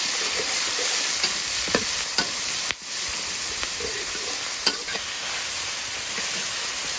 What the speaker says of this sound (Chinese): 现在烧油，把配料倒进来炒，有姜蒜、干辣椒、小米椒，再来点豆瓣酱